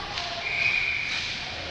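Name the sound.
referee whistle blown for offside in ice hockey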